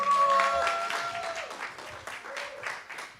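Audience applause welcomes a singer back to the stage at a live pub gig, a short, fairly soft burst of clapping from a small crowd that slowly thins out.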